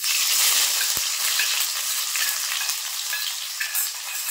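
Chopped onions hitting hot mustard oil with bay leaf and whole garam masala, a loud dense sizzle that holds steady, with one dull knock near the start.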